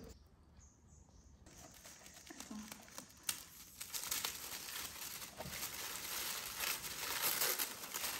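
Glittery tissue paper inside a gift box is torn and crumpled, giving close, irregular crinkling and ripping that builds steadily after a quiet start, with occasional sharper rips.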